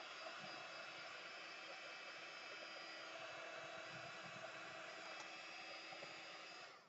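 A heat tool blows a steady, even hiss that runs without a break for several seconds while drying paint on craft tags.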